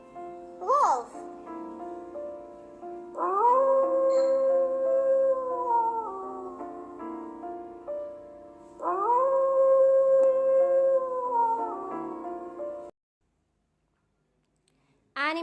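Two long sustained howls imitating a wolf, voiced by children in a grade 2 animal-sounds lesson, each rising then gliding down over several seconds above soft background music, ending in silence.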